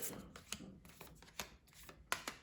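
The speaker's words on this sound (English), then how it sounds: "Okay, I think that's sufficiently" Tarot cards being shuffled in quick, papery bursts, a riffling rustle repeating several times close by with no talking.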